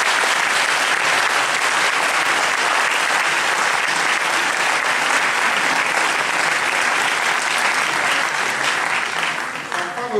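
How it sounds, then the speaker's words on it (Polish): An audience at a Polish film premiere applauds a donor, a long, thick, sustained round of clapping from a full room that thins slightly at the very end as a voice begins to come through. "proszę o brawa dla Pawła Hulca"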